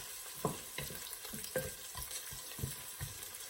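Chopped onion sizzling as it hits hot oil in a pan for chicken afritada, a steady close fry with repeated crackling bursts and stirring scrapes.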